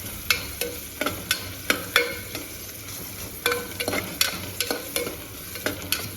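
Green chillies and grated ginger frying in a pan, with steady sizzling broken by sharp scraping taps of a spatula being stirred through, close up and without talk.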